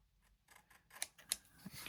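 Scissors snip a paper flap to taper it for a seed-packet folio in a garden journal, a few quiet, crisp cuts in close succession.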